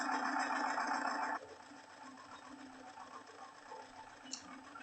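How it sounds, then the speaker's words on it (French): An embroidery machine stitching over fabric held in a magnetic hoop, giving a steady, fast mechanical hum that drops to a softer running whir partway through, with a small click near the end, close by. "Et la machine, elle brode par-dessus."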